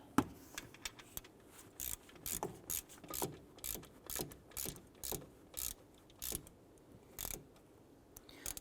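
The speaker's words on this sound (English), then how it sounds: "Let's go ahead and tighten down the 2 alternator bolts." Ratchet snugging two alternator bolts on a 2011-2018 Ram, close crisp clicks in a steady back-and-forth rhythm of short bursts, roughly a dozen strokes, fairly quiet with no talking.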